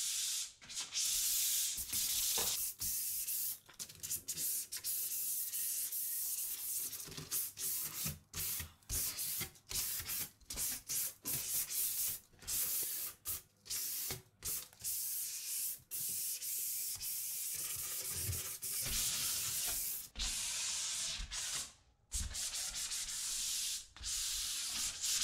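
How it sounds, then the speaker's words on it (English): A steel door being lightly scuffed with 120 grit sandpaper, steady close rubbing strokes in a continuous rhythm with brief pauses, no talking. "What I like to do is just use a bit of sandpaper. This is 120 grit. Just want to scuff up the surface."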